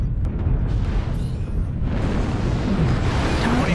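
A video game explosion destroys a target: a dense, rumbling blast with crackling debris that fills the whole few seconds, heavy low boom under a noisy wash, with a faint electronic tone near the end.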